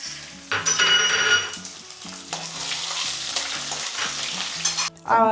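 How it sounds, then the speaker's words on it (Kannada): Green chillies and lentils fry and sizzle in a hot pan while a spoon stirs and scrapes steadily against the metal, loud and close, with no talking. "ಇವಾಗ ಹಸಿರು ಮೆಣಸಿನ್ಕಾಯಿ ಹಾಕ್ತಾ ಇದ್ದೀನಿ."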